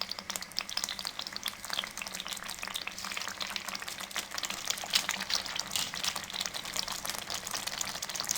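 Mutton karahi frying in a pan while being stirred, a steady crackling sizzle with scraping and clattering of the spoon throughout, close and moderately loud with no talk.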